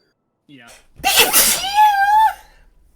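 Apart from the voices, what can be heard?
sneeze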